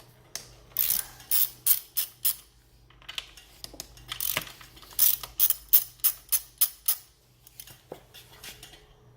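A ratchet loosens the pinch bolts on a Kawasaki KX450F front fork, with quick bursts of sharp clicking repeated in close, loud runs separated by short pauses.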